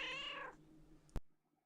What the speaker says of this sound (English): Those are actual recordings of the cats.